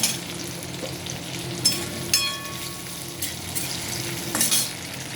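Spices with tomato and onion frying in a pan while being stirred, a constant sizzle broken by several sharp scraping and clanking strokes of a spoon against the pan, close up.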